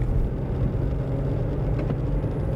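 An old Jaguar police car's engine drones steadily in third gear, a loud, continuous low rumble from inside the cabin with no talk.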